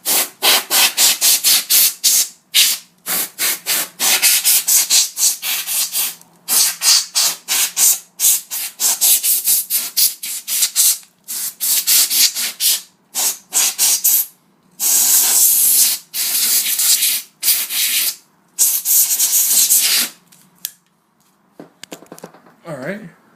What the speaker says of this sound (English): Now, I have compressed air, good enough for me.